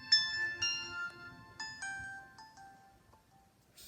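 Short electronic jingle from a Samsung E1120 basic phone as it powers off, a few bright tinkling tones in a descending run, close and fairly quiet, with faint background noise beneath.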